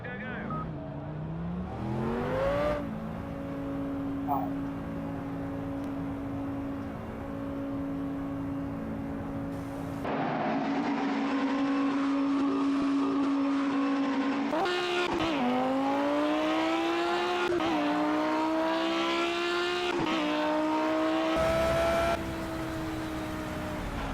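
Race car engine in a racing video game, a steady drone that revs up and down with gear changes and occasional tire squeal, loud and continuous under someone talking.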